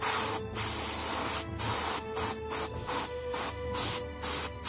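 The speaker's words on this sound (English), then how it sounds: "you're gonna spray it black again anyway." An airbrush or spray can lays black paint onto a Forgeworld Custodes Caladius Annihilator Grav Tank model in a run of short hissing bursts, close and fairly quiet, some longer than others, separated by brief pauses.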